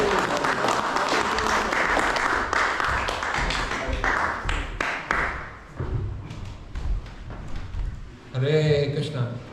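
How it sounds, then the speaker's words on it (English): Applause from an audience at a Panihati festival class in a temple hall, a busy patter of clapping that fades out, with someone speaking briefly over the end. "Let's have a little bit of round of applause for Godruma, the good Das Korb"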